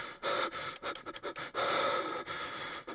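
A dying man heaves ragged, gasping breaths in an audiobook sound effect, panting in uneven bursts with harsh intakes, close and alone without speech.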